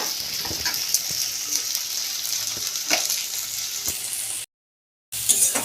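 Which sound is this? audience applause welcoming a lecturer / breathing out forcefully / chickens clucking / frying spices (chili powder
frying spices (chili powder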